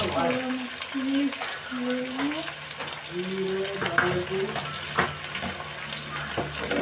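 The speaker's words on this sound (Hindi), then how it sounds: "ऑनियन थोड़ा सा हो गया है, तो कैप्सिकम डाल रही हूँ।" Onion and capsicum fry in a pan with a lively crackling sizzle, while a spatula scrapes and stirs repeatedly in short rhythmic strokes, close and fairly loud.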